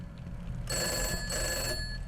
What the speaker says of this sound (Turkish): Telefon çalıyor. Phone ringing.